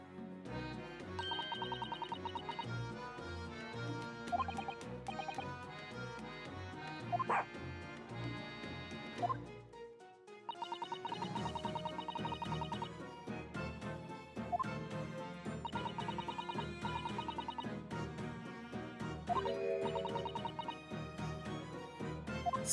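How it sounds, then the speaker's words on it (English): A dog named Toby in The Great Ace Attorney 2 gives short yips and barks over continuous game music, the barks brief and mid-loud, a pause in the music near the middle before it resumes. "what a good dog named Toby"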